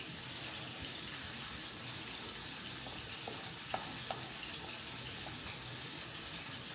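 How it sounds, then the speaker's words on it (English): A spoon works a thick potato mixture in a pot with a steady, soft, wet churning, faint and continuous, broken by a few small clicks against the pot. "you just stir it till you get it to the consistency that you like"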